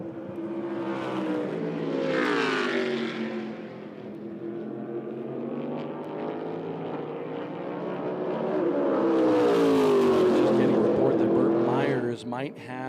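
A modified race car engine roars through a qualifying run at South Boston Speedway, rising and falling in pitch as it laps, loud and fairly close, with a commentator talking over it.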